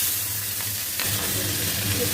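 Nigella seeds with dried red chillies and slit green chillies crackling in hot oil, a close, continuous sizzle with a brief sharper burst midway.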